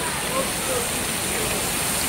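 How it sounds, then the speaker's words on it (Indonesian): Heavy rain at the Mandalika racing circuit, a dense, steady hiss of downpour filling the whole clip at constant loudness. "menunggu hujan reda dulu"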